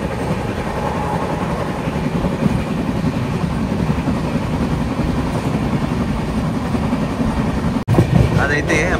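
AP Express train number 20805 pulling out of Peddapalli Junction after a one-minute stop, a steady loud rumble of rolling wagons and engine running continuously, with a brief break near the end.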